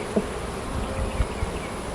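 Honeybees buzz at a hive during an inspection in late June, a steady low drone close to the microphone, with a few soft knocks and bumps from handling the frames.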